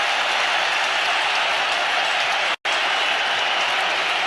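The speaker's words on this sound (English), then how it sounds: "The crowd is delirious." A stadium crowd at a cricket match, the Hero Cup Final between India and West Indies, roars and cheers a boundary. The noise is loud, dense and continuous, with a momentary dropout partway through.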